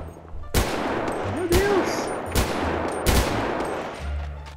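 Gunshots in GTA 5 roleplay ring out as four loud, sharp blasts spaced roughly a second apart over a low background hum, with a person exclaiming briefly between them.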